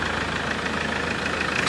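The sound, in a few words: Mahindra Scorpio pickup engine running after repair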